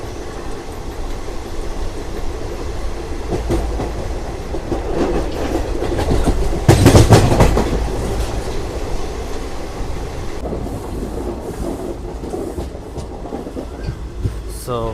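A passenger train on the Repalle to Charlapalli route runs on the rails, its continuous rumble and rhythmic clickety-clack heard from on board, swelling to a louder burst midway.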